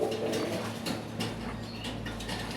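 Native domestic pigeons cooing nearby in a soft, repeated low murmur, with faint scratchy rustles and background noise around them.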